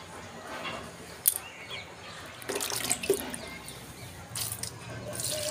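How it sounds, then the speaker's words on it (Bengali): Water from a can or jug patters and splashes onto soil in potted flowering plants, with soft intermittent pouring bursts, a few drips, and faint birdsong in the background. "চলো আমি গাছগুলোতে সব কটা গাছে জল দিয়ে দিচ্ছি"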